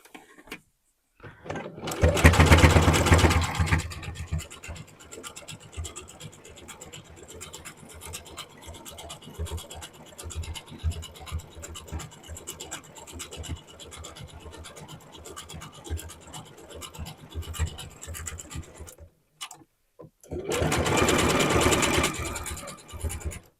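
A sewing machine stitches a sleeve into knit fabric in a steady, rapid whirring run of about twenty seconds, with short louder bursts at the start and end and a brief pause just before the final burst.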